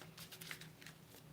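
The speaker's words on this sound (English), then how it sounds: "while I'm shuffling, do my little advertising" A deck of tarot cards is shuffled close by, giving soft, quick papery riffles at low volume with no other sound around them.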